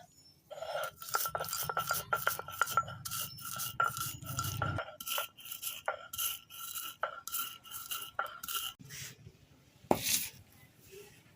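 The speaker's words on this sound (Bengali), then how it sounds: "আমি প্রথমে এই মশলাগুলো বেটে নেব।" Keora pickle spices being ground by hand make a steady run of rhythmic scraping, rubbing strokes, close and fairly loud, with a few sharper knocks toward the end and no talk.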